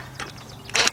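A ratchet on a 6-inch 3/8-drive extension with a 12mm deep socket tightens nuts in the engine bay of a 2004 Nissan Maxima 3.5, two short close clicking bursts, the second louder.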